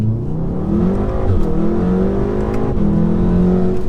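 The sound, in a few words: stage 2 VW Golf R accelerating hard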